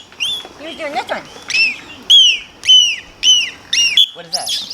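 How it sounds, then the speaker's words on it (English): A trained dolphin producing its seagull sound: a series of rising, squealing whistled calls, loud and close, repeating in quick bursts with a person speaking faintly underneath. "that's a trained behavior called the seagull sound"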